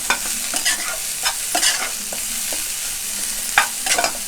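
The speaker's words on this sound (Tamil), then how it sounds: "கொஞ்சம் கோஸ், கொஞ்சமாக கேப்சிகம், இது எல்லாத்தையும் இந்த பேன்லேயே வந்து இதில் இருக்க ஆயில்லையே அப்படியே வந்து லைட்டாக ஃப்ரை" Cabbage and capsicum lightly frying in a little oil in a pan, close stirring scrapes and taps in an irregular rhythm over a gentle sizzle, with no talk.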